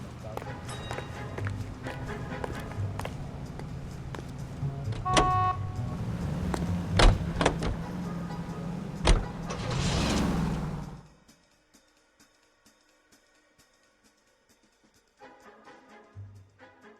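Car driving in the video game L.A. Noire, a steady engine rumble with whooshes and a few sharp knocks, running strong before cutting off abruptly to near silence, with voices speaking over parts of it.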